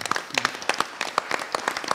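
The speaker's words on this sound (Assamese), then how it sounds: "সেই গুৰুলৈ এটা হাত চাপৰি" Audience applause at an Assamese stage tribute, a scattered patter of hand claps with distinct individual hits spread evenly through a short burst, moderately close and with no talk.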